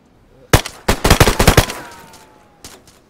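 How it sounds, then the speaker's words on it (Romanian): Gunshots in the survival game DayZ ring out as one sharp shot, then a rapid string of about seven loud, close shots with echoing tails, and one fainter shot a moment later. "Am tras în el."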